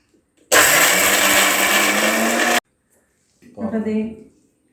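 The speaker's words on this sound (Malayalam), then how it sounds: "ചൂടാറിയതിന് ശേഷം മാത്രമേ നമ്മൾ മിക്സിയിലിട്ട് അടിക്കാം" A mixer grinder whirs loudly and steadily for about two seconds while grinding chutney to a paste, then stops abruptly; a voice speaks briefly afterward.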